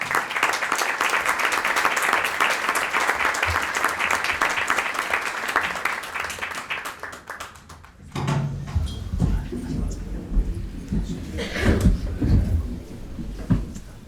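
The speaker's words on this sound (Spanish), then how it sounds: "Yo creo que merece un aplauso." Audience applause in a full hall at a Spanish talk event, dense steady clapping for about eight seconds that then drops off into scattered claps, room noise and murmuring.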